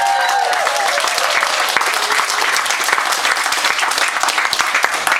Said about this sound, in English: So we have a big round of applause for Claire.